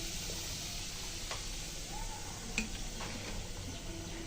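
A spoonful of turmeric dropped into hot mustard-oil-style cooking oil on a lowered flame, giving a soft, steady sizzle with faint stirring ticks and a small clink, quiet and close with no talk.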